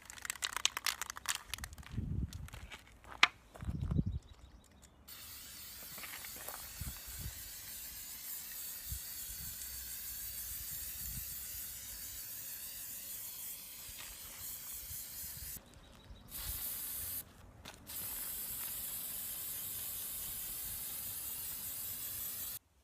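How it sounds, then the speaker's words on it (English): A steady, loud hiss of Watco clear satin lacquer from a spray can runs for long stretches after some initial knocks and rattles, stopping briefly before resuming. "This is a spray by Watco, clear lacquer, and it's supposed to be a satin finish"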